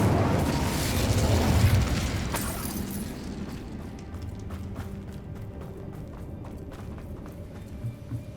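A fire spell cast in the video game Hogwarts Legacy sets off a loud, roaring whoosh and burst that peaks early, then fades into a lower crackling, rumbling tail with scattered small pops.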